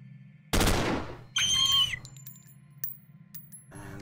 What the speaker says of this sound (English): let's crouch him down and do an auto shot